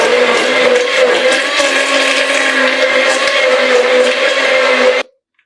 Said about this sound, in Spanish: ahora a esto le pasamos la batidora.